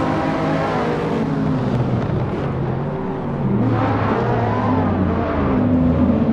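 A Ferrari 458 race car engine in Assetto Corsa drones steadily and close, its pitch gradually rising and falling as the car accelerates and eases off, with no talking.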